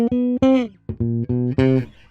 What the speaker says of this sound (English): This is a great exercise because not only does it create a really cool bass line that sounds like this